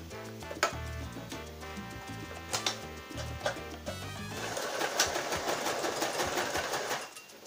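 A sewing machine stitches along a fabric face-mask seam in a rapid, loud, steady mechanical whir, broken by short stops in the first half before running continuously to the end.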